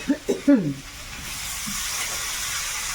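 A voice speaks briefly, then potatoes fry in a pan with a soft, even sizzling hiss that carries on alone.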